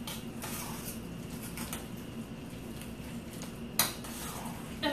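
Minced garlic being mixed into guacamole in a bowl, soft repeated scraping and stirring with light clinks of a utensil and one sharper knock near the end.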